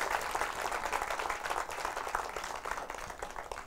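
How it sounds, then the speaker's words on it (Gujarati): An audience at a bank-hosted book talk breaks into continuous applause, a dense, even rattle of many hands heard from a distance and fairly soft, easing slightly as it goes on. "જોરદાર તાળીઓ થઈ જાય, અને એટલી જોરદાર તાળીઓ તમારા બધા પ્રેક્ષકો માટે પણ"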